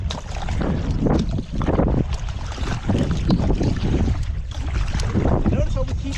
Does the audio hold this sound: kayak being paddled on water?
yes